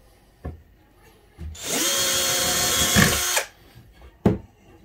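A Patriot BR 181 Li cordless drill-driver drives a screw into a wooden board, whirring loudly for about two seconds between a few short clicks and knocks.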